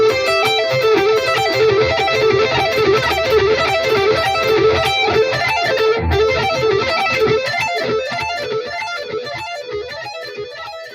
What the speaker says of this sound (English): it's a really cool way to play arpeggios